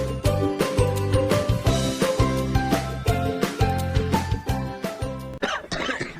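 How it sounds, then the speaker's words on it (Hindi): A person coughing in a TV advertisement, repeated coughs set against loud tonal music. "खांसी के लिए कोई गोली ले लूंगा, ठीक हो जाएगी।"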